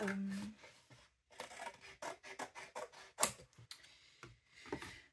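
Scissors cut through fabric scraps in a run of quick, close snips and rasps, irregular and quiet, with short gaps between cuts.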